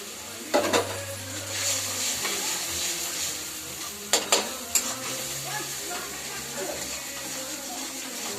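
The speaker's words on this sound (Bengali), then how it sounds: "যতক্ষণ না তেল ছাড়ে ভালো করে মিশ্রণটাকে কষে নিতে হবে" Turmeric, chili, cumin and coriander powders fry in oil with a steady close sizzle, while a utensil scrapes and knocks against the pan a few times.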